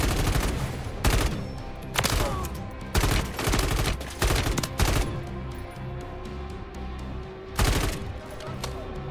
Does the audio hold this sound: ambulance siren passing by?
no